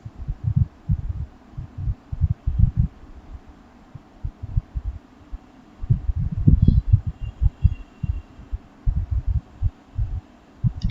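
Cake batter with vanilla essence stirred by hand in a bowl, heard as a steady run of soft, low, close thumps and scrapes in an uneven rhythm, with no talking.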